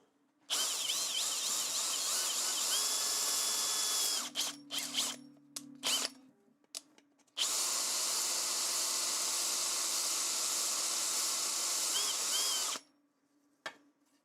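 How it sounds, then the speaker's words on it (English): A loud electric drill whines continuously drilling into a 3D-printed plastic part, stops for a few seconds of short bursts and rattles, then runs steadily again before cutting off. "So I'm gonna drill this a little bit deeper now"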